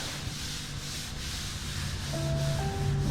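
Hand sanding of primer on a Chevrolet Z28 car door, a soft, steady rubbing scrape in quick back-and-forth strokes, close and fairly quiet, with a faint tonal hum creeping in near the end.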